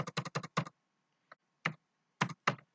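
Typing on a computer keyboard to enter a command in math software: a quick burst of four keystrokes, then a faint tap and three more scattered presses, close and clear in an otherwise quiet room.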